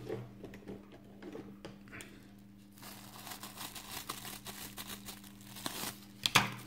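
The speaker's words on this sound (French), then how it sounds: "On coupe une petite longueur. Voilà, je vais prendre les ciseaux." Scissors snip through a small length of thin plastic during scale-model car assembly, with soft crinkling and rustling handling noise building to a few sharp close cuts near the end.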